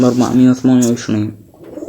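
A pigeon coos in a pigeon-keeping video game, a few close, loud throaty coos in quick succession with a brief voice over the end.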